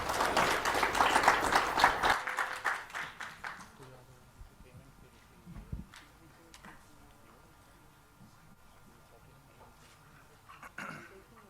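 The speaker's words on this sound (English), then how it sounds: "A big round of applause for them, please." Audience applause for panelists at a conference panel discussion, a moderate burst of clapping in the first couple of seconds that fades quickly, followed by quiet room noise and brief speech.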